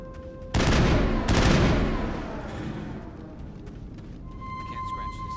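A shotgun is fired twice in the video game Mass Effect, each blast loud and close with a long rumbling tail that fades into a low background hum.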